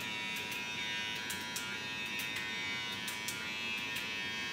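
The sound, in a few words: Gamma Plus Boosted hair clipper running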